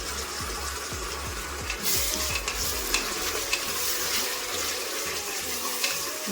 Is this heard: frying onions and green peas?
yes